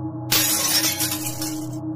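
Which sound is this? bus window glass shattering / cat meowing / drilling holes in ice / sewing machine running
bus window glass shattering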